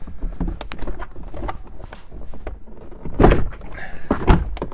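A Ford F250 rear door panel is pulled off its retaining clips, producing a series of close plastic thunks, pops and rattles with a couple of sharper knocks toward the end.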